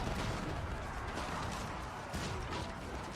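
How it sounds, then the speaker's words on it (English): Massed cannons firing in the real-time strategy game Age of Empires IV, a dense, continuous roar of overlapping blasts and crashes that stays loud and unbroken throughout. "That's the most cannons I've ever seen."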